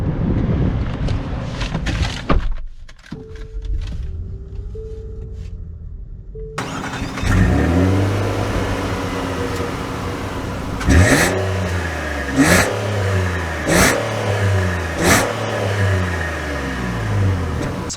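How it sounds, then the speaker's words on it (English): A 2022 Nissan Pathfinder Platinum starts up and pulls away, its engine rising in repeated revving surges with gear changes during acceleration, loud and close from inside the vehicle. "let's take it out, see how it drives"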